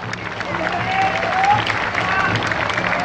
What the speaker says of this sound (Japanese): 皆さん拍手お願いします。